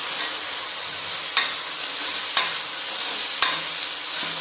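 Pigeon peas frying in a pan for a masala gojju, a steady close hiss of sizzling with three evenly spaced sharp scrapes of a spoon, no voices.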